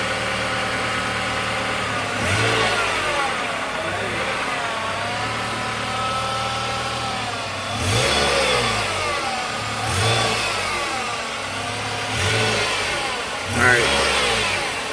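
A Nissan NV200 rolls along with a rubbing noise from the front end, a steady engine hum broken by rhythmic swelling whooshes roughly every two seconds.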